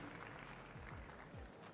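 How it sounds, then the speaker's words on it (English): Crowd cheering and applauding at an Apex Legends esports tournament, a dense steady roar of claps and voices filling the whole moment without a break. "Crowd makes some noise for 3 of the best players in the world."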